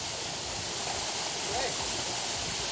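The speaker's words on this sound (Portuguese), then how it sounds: "Outra cachoeira." A mountain waterfall roars as a steady, loud wash of falling water that fills the whole clip, with people talking faintly beneath it.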